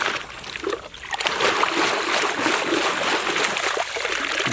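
Water sprays and splashes over a toy construction dump truck being washed, a loud continuous hiss with trickling and splattering close by.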